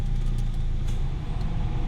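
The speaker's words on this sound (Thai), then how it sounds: "อันนี้รอบเครื่องยนต์นะครับ ขณะเดินเบา ผมมาเปิดแอร์นะครับ" A Mitsubishi 4G63 engine idles with the air conditioning switched on, a steady low rumble close by with a slight uneven pulse and no voices over it.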